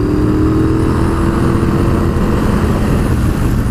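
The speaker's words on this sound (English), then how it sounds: "Cheeky overtakes like that are just no issue at all on this bike." A Triumph Bobber motorcycle engine roars loud and steady while overtaking a van on the road, with a deep throbbing exhaust note and a rising pitch early on, mixed with wind rush.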